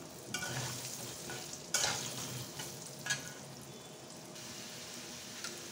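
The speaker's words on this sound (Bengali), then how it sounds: "আলুগুলো আমি তেলে ভেজে নেব।" Potatoes with turmeric frying in oil give a soft, continuous sizzle, broken by a few louder scraping stirs of a utensil in the pan, heard close with no voices.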